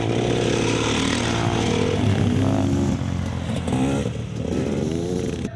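Several motorcycles doing extreme off-road stunts on unpaved ground outside town at a local bikers' season-opening event, engines revving and rising in pitch, loud and close, with shifting revs and clattering throughout.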